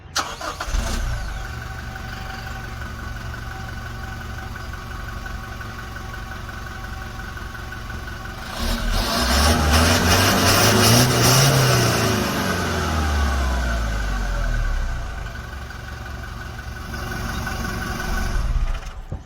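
A Toyota Fortuner Sigma engine runs steadily, then rises into a louder, deeper surge midway before settling back to a steady hum; no talking.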